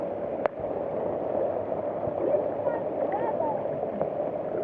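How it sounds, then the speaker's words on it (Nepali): A swollen Bagmati river rushing after rain in Kathmandu, a steady broadband roar of fast water that stays continuous and fairly loud throughout, with brief faint voices at moments. "बागमती खोला उर्लेर आउँदा"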